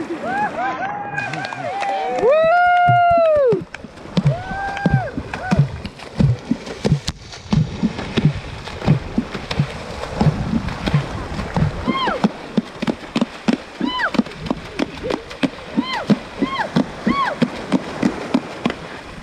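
Women in Vanuatu play water music, slapping and scooping the water surface in rhythmic patterns, producing repeated deep plunking and splashing beats, with singing voices rising over the steady water rhythm.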